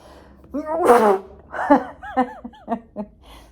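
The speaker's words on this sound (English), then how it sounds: "Try not to sneeze." One sharp, breathy sneeze bursts out, followed by a few soft chuckling sounds.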